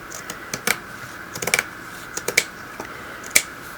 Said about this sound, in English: We're going to trim all of these corner pieces off like this.